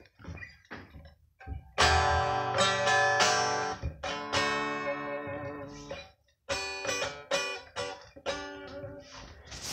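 Electric guitar strummed and picked, chords ringing with a slightly sour, off-pitch tone, close and fairly loud with brief pauses between phrases.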